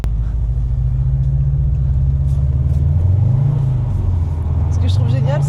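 Subaru STI rolling across the frozen Saint Lawrence River on snow tires, a steady low engine drone with rising and falling revs throughout, and voices talking over it.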